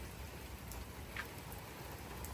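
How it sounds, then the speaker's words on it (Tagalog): Faint, steady patter of light rain with occasional soft drips standing out against a constant hiss. "nanunood sa pumapatak-patak na ulan"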